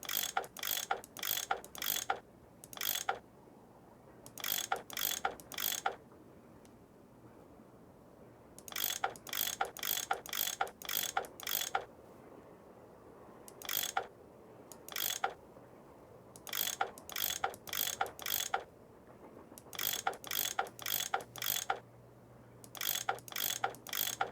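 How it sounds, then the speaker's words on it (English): Ratcheting tool clicks from the video game Nancy Drew: Last Train to Blue Moon Canyon, loosening bolts in quick bursts of sharp metallic ratchet strokes separated by short pauses, close and clear over a faint low hum. "I bet that's what you use to unscrew these bolts"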